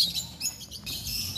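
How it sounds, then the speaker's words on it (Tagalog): Birds chirping in an eco park, a quick series of high, bright tweets and calls repeating close by over soft background noise. "mga ibon, ayan dami."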